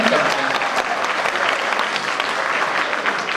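An audience at a Hindi poetry recital breaks into dense, sustained applause, loud and steady throughout with no voices heard over it.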